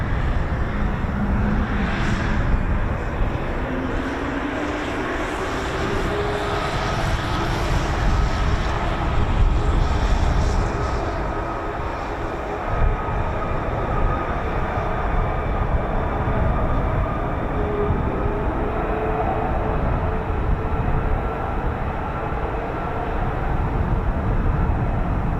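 A Lockheed F-35B stealth jet engine starts up and runs at an RAF airfield, a loud, sustained roar and whine that holds steady for about twenty-five seconds with a rising tonal whistle near the start and no talk.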